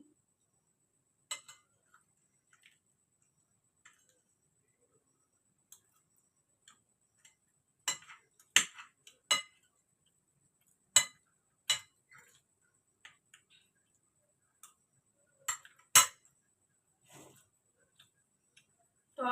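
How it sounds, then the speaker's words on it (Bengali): A spoon scrapes and clinks on a plate while chicken egg chow mein is eaten, giving sparse sharp metallic taps at irregular intervals, close and fairly quiet, with silence between and no talking. "কাঁটা চামচ বাড়িতে নেই, সেই জন্য এই চামচ দিয়ে খাচ্ছি।"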